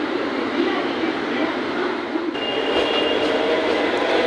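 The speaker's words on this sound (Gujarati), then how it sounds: "એસી ટ્રેન જાય છે અત્યારે અહીંયાથી ફાસ્ટ" An AC train rushes past at speed, a loud continuous rumble and rushing roar filling the whole stretch, with no clear speech.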